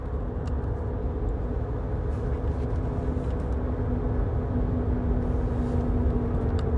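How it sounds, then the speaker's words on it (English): Steady low rumble of a car driving along a road, heard from inside the cabin, with a constant hum and road roar throughout. "I know you might hear the car and the road in the background."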